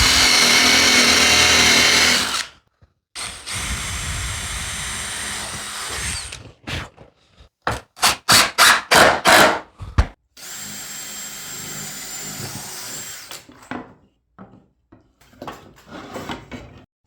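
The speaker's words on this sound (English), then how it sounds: "And then countersink and screw it in." A power drill countersinks and drives screws into old skis being built into a chair. A sustained whir is followed by a burst of short trigger pulses, then another steady run, close and loud with no talk.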